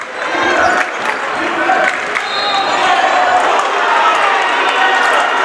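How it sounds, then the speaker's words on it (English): High school boys' varsity basketball quarterfinal crowd in a gym roaring and applauding nonstop, loud and full with cheers and shouts. "Brings the crowd to its feet on the side we are here."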